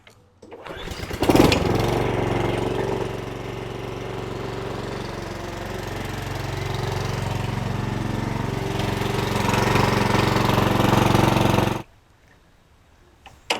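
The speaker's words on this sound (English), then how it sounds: "we're going to go ahead and warm up the engine for a little bit" A Honda HRX217 lawn mower with a GCV200 engine starts up and runs steadily to warm up, a loud, even mechanical drone holding for about ten seconds before cutting off abruptly into near silence.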